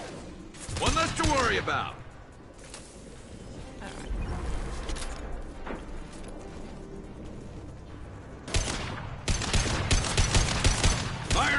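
Gunfire in the sci-fi shooter Mass Effect 2, with loud bursts of rapid shots early and again in the last few seconds, separated by quieter combat noise, while a character speaks briefly.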